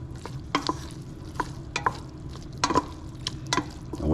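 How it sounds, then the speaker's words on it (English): Butter melts in a pan while a utensil stirs it, producing a low steady sizzle with irregular close scraping and tapping strokes, no voices. "drop the butter over in here. Give that a little stir."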